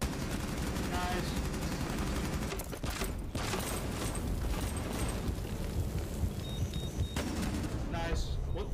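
Light machine gun fire in a competitive shooter match, loud and sustained bursts crackling across the whole stretch with brief lulls, mixed with other game sounds and occasional voices.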